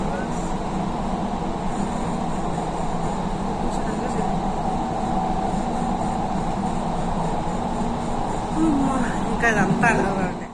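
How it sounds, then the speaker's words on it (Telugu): Driverless underground metro train in Qatar, a steady low rumble and hum of the carriage in motion heard from inside, with people talking over it. "అండర్ గ్రౌండ్ లో ట్రైన్ లో వెళ్తున్నాం"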